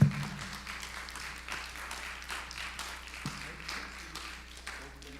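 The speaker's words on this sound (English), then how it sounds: "And let's give them a round of applause," An audience at a community summit applauds, scattered clapping spreading through a room at moderate volume for a few seconds, with a low steady hum and some background voices underneath.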